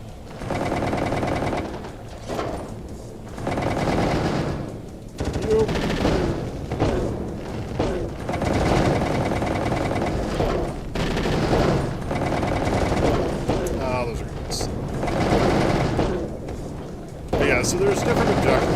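SMG fire in a video game rattles in rapid, sustained bursts over a busy game soundscape, while a person keeps talking over the shooting.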